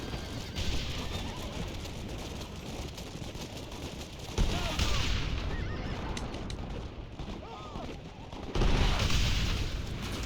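Horses whinny and neigh repeatedly in the Red Dead Redemption video game, several high calls rising over a busy mix of hoofbeats, distant gunfire and game ambience, fairly loud throughout.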